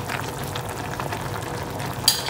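A pot of sponge gourd (patola) boils on the stove for Itawis diningding, a steady close bubbling and simmering hiss with a small clink near the end.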